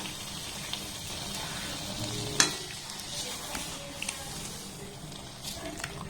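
A milk mixture cooking in a pan and being stirred, giving a low steady sizzle with soft intermittent scrapes and one sharper knock of the utensil against the pan partway through.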